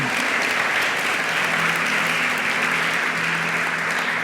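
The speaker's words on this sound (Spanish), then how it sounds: "un fuerte aplauso al Señor" A church congregation applauds during a sermon, a loud, sustained wash of clapping that stays even and unbroken from start to finish, with a low steady hum beneath it.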